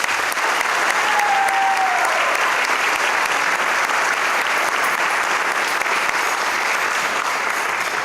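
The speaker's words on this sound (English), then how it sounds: "Let's give them a round of applause." Sustained, thick applause from a hall of fame ceremony audience for 1981 swimmers, loud and even throughout, with a brief whistle-like tone early on.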